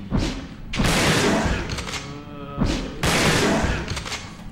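Repeated bursts of gunfire in the video game Resident Evil Dead Aim, including shotgun shots, loud booming blasts with rattling tails, two main bursts about two seconds apart.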